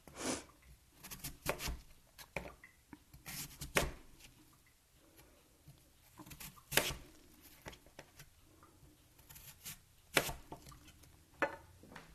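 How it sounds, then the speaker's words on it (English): A knife slices through firm jicama on a cutting board in irregular sharp chops and taps, some louder than others, spread across a quiet close-up background. "So you're going to slice it in pieces about like this."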